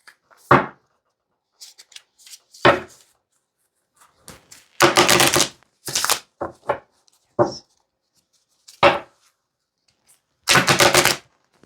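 A deck of Tarot of the Spirit World cards is being shuffled in sharp, loud bursts of riffling and slapping, spread irregularly with short silent pauses between them.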